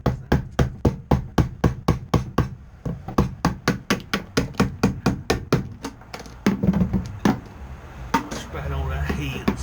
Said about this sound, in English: get the chisel quite an angle